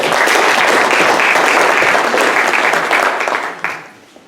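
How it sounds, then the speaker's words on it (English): A room of attendees at a county supervisor candidate forum bursts into loud, dense applause that holds steady for a few seconds, then tapers off to a few scattered claps. "Everyone give them a round of applause"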